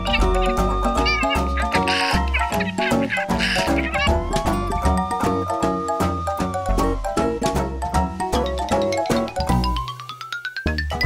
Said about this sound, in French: Huggy sauve un chaton sur le gros camion de pompiers rouges